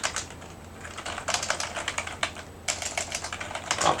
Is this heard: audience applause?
no